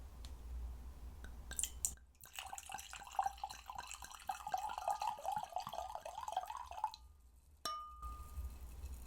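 A second glass of wine is poured from the bottle, a close, soft gurgling stream lasting several seconds that rises in pitch as the glass fills, followed by a light glass ding, with no talking.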